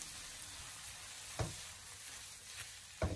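Pork with a sauce of sugar, chicken powder and light and dark soy sauce being stir-fried in a wok, a soft continuous sizzle with a few brief scraping clinks of the spatula.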